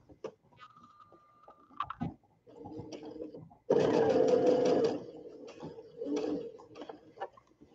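A sewing machine stitches a curved seam on a baby sunsuit in short bursts of rapid mechanical ticking. One longer, louder run comes near the middle, with fabric handling and pauses between runs.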